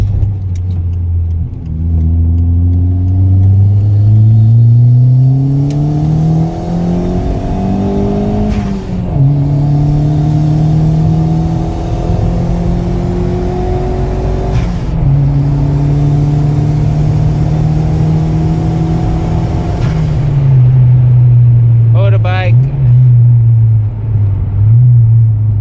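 A turbocharged Ford Figo's engine revs hard and close, climbing in pitch through several gear pulls with short dips between shifts and a brief whistle near the end, no voices over it.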